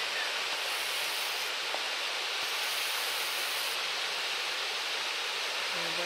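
Steady broadband rush of running water from a low-flowing outdoor stream, constant and fairly close, with no voices over it.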